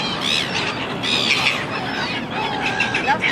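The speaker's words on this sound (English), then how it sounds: "Birdies." Birds squawking and chirping on a trip in Sydney, a busy chorus of overlapping calls that runs steadily throughout, fairly close and moderately loud.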